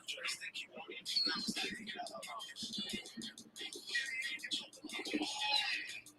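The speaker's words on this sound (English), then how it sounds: "Did you all enjoy the bird TV today?" Pigeons or doves coo and call with scattered chirps at moderate distance, a steady busy layer of birdsong over low background noise.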